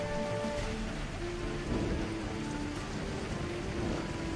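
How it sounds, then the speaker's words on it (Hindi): Heavy rain pours steadily and loudly, a dense continuous hiss of falling water with low rumbling underneath and no voices. "जोर की बारिश होने लगती है"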